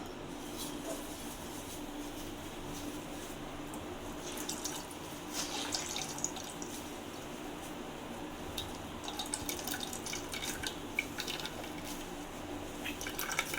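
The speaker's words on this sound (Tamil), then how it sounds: "நல்லா மிக்சியில் போட்டு வடிகட்டி பால் எடுத்துக்கலாம்" Ground coconut being strained for rice-flour coconut milk kozhukattai: a quiet, steady trickle and drip of liquid with small wet squishes, close by and with no voices.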